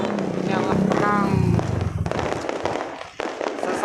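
Dense crackling bursts and pops of fireworks and firecrackers fill the sky over Palembang on New Year's Eve 2023/2024, loud and continuous, with someone talking over them.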